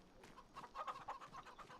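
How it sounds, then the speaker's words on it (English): Chickens cluck in a farm simulator game set in Moss Valley, a soft run of repeated clucks and fowl calls at moderate distance, fairly quiet, with no talking over them. "Where are the chickens, though?"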